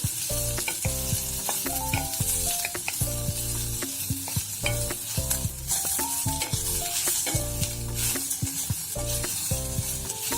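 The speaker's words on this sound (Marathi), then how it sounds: "कांद्याचे आपण बारीक स्लाइसेस करून घेतलेले होते, ते पण आपण आता गुलाबीसर रंग येईपर्यंत छान परतून घेऊया" Thinly sliced onions fry until pinkish for a spicy Khandesh-style shev bhaji, making a loud continuous sizzle while spoon stirring runs through it, heard close with music playing underneath and no talk.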